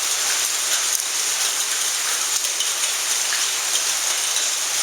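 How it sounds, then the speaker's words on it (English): Hail falls outdoors in Dallas during a storm, a loud dense hiss of countless stones striking surfaces, continuous and even with faint scattered impacts throughout. "I'm underneath the thing and I'm still getting hit by hail"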